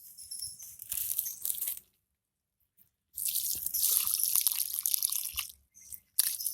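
Water splashes and trickles onto soil around a newly planted plant cutting, two bursts of pouring with a pause between, close and hissy, ending with scattered drips and a brief splash.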